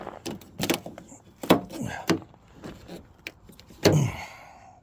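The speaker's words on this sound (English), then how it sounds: "Well, I can't get the fucking door open." Someone struggles with the door of a 2003 Mercury Grand Marquis, making a series of sharp handle clunks and latch rattles with brief muffled voices in between.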